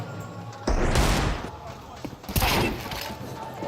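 Gunfire in Counter-Strike 2 cracks out in two sharp, heavy bursts about one and a half seconds apart, each trailing into a short echo, while a commentator's voice runs underneath.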